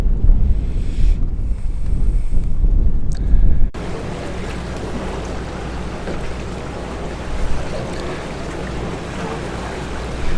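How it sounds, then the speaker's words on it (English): Wind buffets the microphone in heavy gusts aboard a sailing catamaran on Annapolis Bay, then settles into a steady rushing roar of open water and breeze around the boat. "It's a nice windy day out here in Annapolis Bay."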